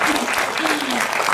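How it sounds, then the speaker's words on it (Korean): At a film festival screening at a cinematheque, an audience applauds with a thick, continuous burst of clapping, and a voice speaks faintly underneath. "박수 부탁드립니다."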